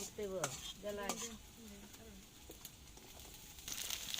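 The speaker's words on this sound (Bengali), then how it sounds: "এইখানে এখন ভাজি হচ্ছে ভর্তার জন্য, টাকি মাছ ভর্তার জন্য।" Onion, green chili and a bay leaf fry in a pan for taki fish bhorta, a low sizzle with stirring clinks while a voice talks over the first half and the frying swells near the end.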